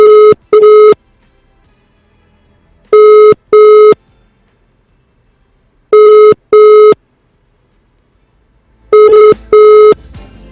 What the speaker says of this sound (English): It's not answering the phone.